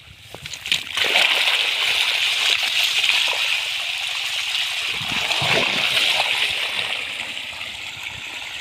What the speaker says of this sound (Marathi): बापरे पाणी तर बघू शकता तुम्ही खूप जास्त खाली गेलेलं आहे